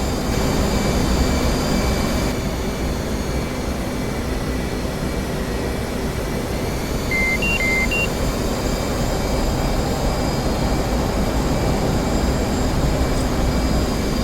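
A fighter jet taxis across an aircraft carrier deck in the DCS flight-simulator game. Its engine gives a loud, steady, continuous roar that holds for the whole stretch, with no voices.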